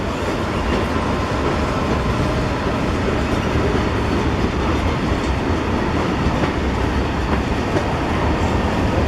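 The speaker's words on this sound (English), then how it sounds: "so they're both freight trains" A long freight train rolls steadily past at close range near Roanoke, its wagons giving a continuous loud rumble with faint clickety-clack from the wheels and no pauses.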